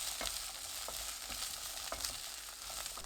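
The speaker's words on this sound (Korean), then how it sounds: "풋고추 넣고 3분 볶습니다" Steady sizzling of green chili peppers stir-frying with garlic in hot oil in a pan, with occasional scraping and stirring clatter, close up and continuous, no voices.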